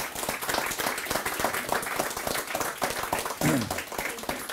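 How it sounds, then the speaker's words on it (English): An audience at a Ukraine House Davos panel event applauds the panelists, with dense, sustained clapping throughout that is close and loud. "join me in applauding these fantastic panelists"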